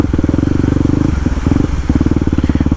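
Motorbike geared with a 13-tooth front and 49-tooth rear sprocket idling at walking pace, a loud, close, steady low thumping pulse that dips briefly midway, then resumes.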